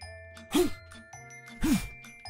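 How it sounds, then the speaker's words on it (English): Bell tones from a video game song ring out in two bright, separated strikes about a second apart, over a soft sustained musical background with no talking. "This is the best part of the song, the bell part."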